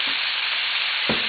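Beef and vegetables stir-frying in a hot pan make a steady broadband sizzle, with a soft scrape or stir near the start and a louder clack of the utensil near the end.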